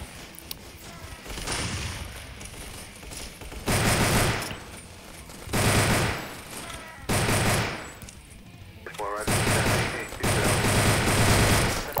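Rapid automatic gunfire in a Roblox zombie survival game comes in several loud bursts separated by brief pauses, with faint voices underneath.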